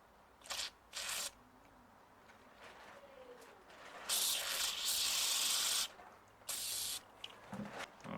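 WD-40 sprayed onto the rubber pieces of a Suzuki GSX750F motorbike fuel filler cap during cleaning: two short hissing bursts, then a long steady spray of almost two seconds and another brief burst, close and fairly loud.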